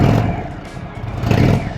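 An Indian Chief air-cooled motorcycle engine revs with a deep, full-bodied roar, rising briefly and settling again, close and loud throughout.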